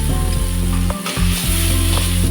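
Leafy greens frying in a generous amount of oil for a vegetarian dish make a loud, steady sizzle with light stirring, close by and with no talking.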